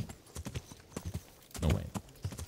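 Horse hooves clip-clop in a steady rhythm in a video game, with a louder burst of hoofbeats and a possible snort near the middle, all fairly close.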